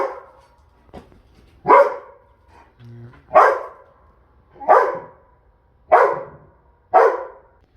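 A dog barks sharply about six times at a steady pace, loud and close, at wild birds near chicks in a patio area, with short pauses between each bark.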